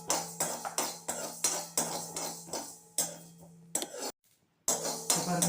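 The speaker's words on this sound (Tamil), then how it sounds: "முதல்ல வெறும் சட்டியில் கொஞ்சமாக கடுகும் வெந்தயமும் போட்டு வறுத்து வச்சுக்கலாம்" Mustard and fenugreek seeds dry-roast in a bare pan while a utensil stirs them, making rhythmic metallic scrapes and clinks about twice a second, close and clear, with one brief silent pause.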